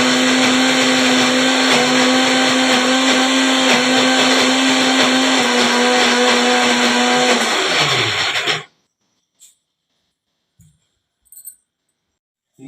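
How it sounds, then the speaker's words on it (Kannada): A kitchen mixer grinder runs loudly and steadily at close range, then its motor winds down and stops, leaving a few small clicks and knocks in the quiet. "ಮಿಕ್ಸಿ ಜೋಡಿಸೋದು"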